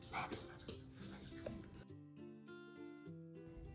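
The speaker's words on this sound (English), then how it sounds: "My dog is a bit angry again." A pet dog barks angrily indoors during a Christmas crafting session, a few yaps at the start before quieter tonal sounds take over; fairly faint overall.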